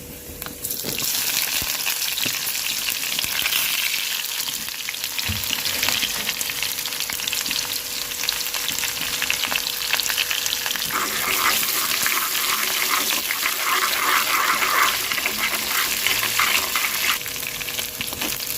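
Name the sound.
onions frying in oil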